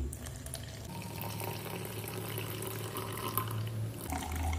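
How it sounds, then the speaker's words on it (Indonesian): Hot water poured into a cup up to 100 ml for a creamer-based drink, a steady close trickle and splash that runs for several seconds, with no talking. "kemudian kita isi air panas ya sampai di 100 ml"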